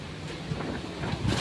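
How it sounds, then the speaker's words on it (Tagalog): Strong wind buffets the microphone with a steady rushing roar that swells louder near the end. There is no speech. "Gumanda na yung panahon pero grabe naman ang hangin"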